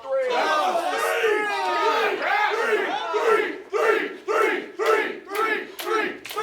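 A wrestling crowd roars and chants in rhythmic surges at a live pro wrestling show, loud and dense, rising into repeated unified shouts.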